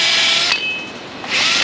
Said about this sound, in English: let me polish this up real quick here